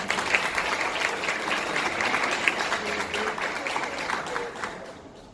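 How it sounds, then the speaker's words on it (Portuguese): Seated listeners at a medical lecture on lung cancer give a round of applause, a steady wash of many hands clapping that holds evenly and then fades away at the end. "mais uma vez uma salva de palmas"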